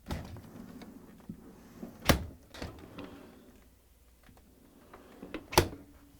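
Quiet handling noises with a couple of sharp clunks and clicks as a Bosch dishwasher door is opened and moved on its hinge.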